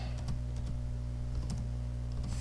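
Rapid, light clicking of computer keys in an uneven typing rhythm, close and steady, with no voices.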